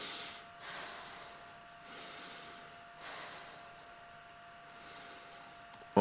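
Someone breathes onto a respiratory sensor in three or four slow, breathy exhalations, separated by short pauses. They are close and fairly soft, against a faint steady electronic hum.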